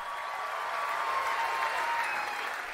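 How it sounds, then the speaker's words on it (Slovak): Big audience applause at an apple festival in a village square, a steady, even wash of clapping that holds without a break, moderately loud and slightly distant. "Od publika si vyslúžili obrovský potlesk."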